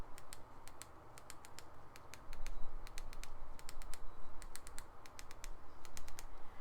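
Keys on a Veho Cideko Air Keyboard Conqueror, a combined gamepad and keyboard, tapped in quick irregular bursts of crisp clicks, close up, with no talking.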